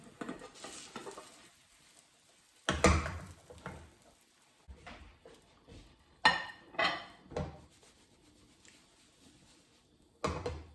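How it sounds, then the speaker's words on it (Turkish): Cheese omelette flipped over and cooked in a frying pan on a lowered stove flame, with a sharp clatter of pan and utensil, several scraping and tapping hits, and a soft sizzle between them. "Şimdi diğer tarafı da hafif pişireceğim. Onun için şöyle ters düz yapıyorum."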